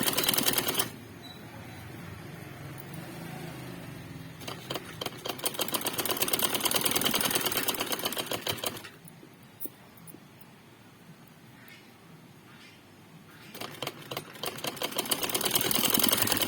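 A sewing machine stitches a sleeve of a frock in bursts: a rapid mechanical whirring run, a quieter pause, then a second run, a third starting near the end, all close and moderately loud.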